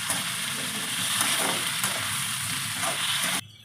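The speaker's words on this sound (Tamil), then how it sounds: "உருளைக்கிழங்கு போடுப்பா. பயப்படாத. ஒரு 5 நிமிஷம் ஃப்ரை பண்ணிக்கோ நல்லா." Potato pieces frying in hot oil give a dense, steady sizzle and crackle close up, with soft stirring scrapes, then cutting off abruptly near the end.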